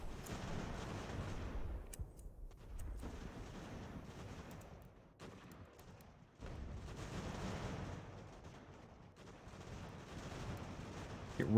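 Cannon artillery fire in the video game Ultimate General American Revolution, a battlefield rumble of distant booms and crackling volleys that rises and falls across the stretch, with sharp reports standing out.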